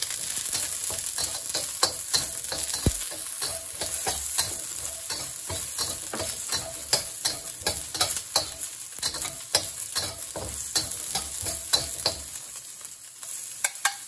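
Onion fries in hot oil for kung pao chicken, giving a steady close sizzle. A utensil stirs and scrapes the pan in frequent sharp clicks throughout, with no talking.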